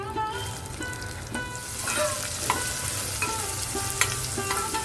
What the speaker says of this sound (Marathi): आता मी ह्याच्यामध्ये कांदा घालते।